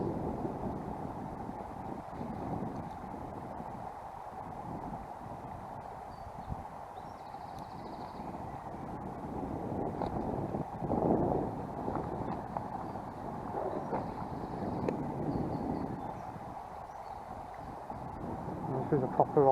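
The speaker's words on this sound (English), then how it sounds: "I've got the wind in my face" Wind blows steadily across a microphone beside the River Vyrnwy during fly fishing, a low rumbling gusty roar that swells and dips throughout.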